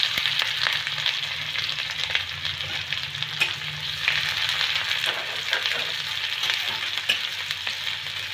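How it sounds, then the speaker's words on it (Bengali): Chopped onion and green chili fry in a pan for a Mughlai paratha with potato curry, giving a steady close sizzle with occasional stirring scrapes throughout, no talking. "পেঁয়াজটাকে এখানে আমি 2 থেকে 3 মিনিটের মতন নেড়ে নেব"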